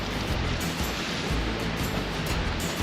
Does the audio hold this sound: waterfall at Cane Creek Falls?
yes